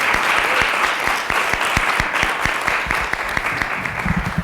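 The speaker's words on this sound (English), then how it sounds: "we'd like a round of applause for the" Audience at a school committee meeting applauds the MEF, a steady, dense wash of clapping that holds for several seconds with a few sharp individual claps standing out.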